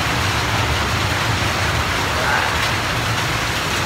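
Heavy rain pours down in a loud, dense, unbroken hiss with water dripping, close and steady for the whole stretch.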